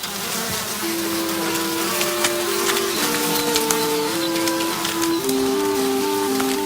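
Bees buzzing around a honeycomb, a steady close drone that fills the whole clip, with a tonal melody running over it.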